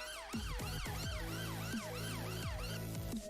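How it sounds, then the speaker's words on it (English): A dated, odd-sounding emergency vehicle siren from a Roblox game vehicle, wailing in fast repeating up-and-down sweeps with layered tones, loud and steady throughout with no talk. "it seems to be quite an older, weird siren to this and not what we want"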